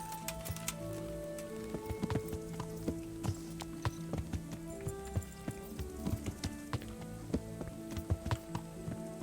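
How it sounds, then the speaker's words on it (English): Horse hooves clip-clop steadily on the ground while riding in Kingdom Come: Deliverance, a continuous rhythmic patter of hoofbeats over background game ambience, with no talk. "Okay, mount the horse."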